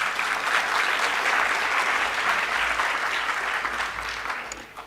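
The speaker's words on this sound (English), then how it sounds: "I think that the UJ choir deserves another round of applause." A large audience at a university honorary doctorate conferral ceremony applauds the UJ choir, a loud, sustained wash of clapping that fades slightly toward the end.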